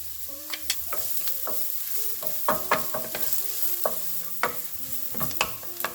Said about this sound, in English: add in our onions, and we're going to cook these until they are translucent